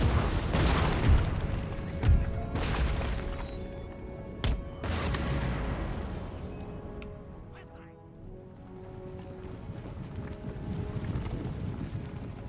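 Artillery cannons fire at a fortress wall in the strategy game Empire: Total War: a few sharp, distant booms spaced apart over a windy rumble, with someone talking through part of it.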